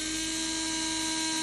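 A Unilend DC-25 handheld frother whisks 50ml of black coffee with a steady, high-pitched electric whine that holds at an even level for the whole stretch, close to the mic, with no talking.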